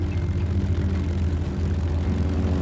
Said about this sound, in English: The floats attached, and the Seyran launched into the air.